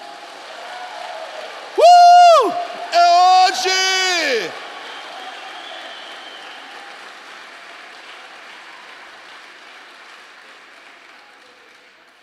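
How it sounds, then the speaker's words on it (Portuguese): A church congregation applauding during a sermon, a steady wash of clapping and crowd noise underneath a loud preacher's voice that shouts over it, the applause fading gradually toward the end. "Pode aplaudir."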